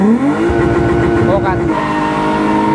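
Car engine revving hard during drifting practice, a loud close rising then held engine roar with a talking voice heard in the background.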